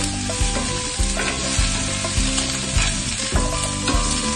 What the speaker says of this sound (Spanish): No dejes que la cebolla se cristalice, únicamente que se cocine, que se sancocha y que agarre un sabor delicioso